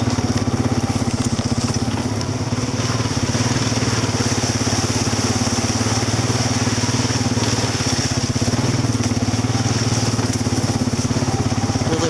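Four-wheeler ATV engine running steadily as it drives through muddy woods near a creek, a continuous loud close engine drone with rough clattering texture throughout.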